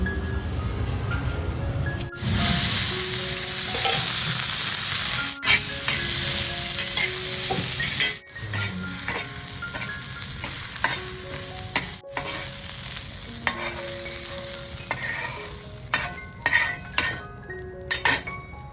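Dry coconut roasting in a pan for a mutton thali, with steady sizzling and frequent clinks and scrapes of a metal spoon against the pan, close and loud, the stirring growing more broken toward the end.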